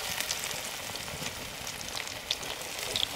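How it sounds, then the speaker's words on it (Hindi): Battered arbi (taro) leaf fritters fry in hot oil, making a steady crackling sizzle with scattered sharp pops, close up and continuous, with no talk over it. "ये देखिए किस तरह से फ्राई हो रहा है"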